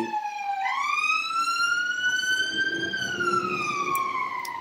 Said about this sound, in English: It always happens in my live streams where we have the sirens and we have the blues and twos.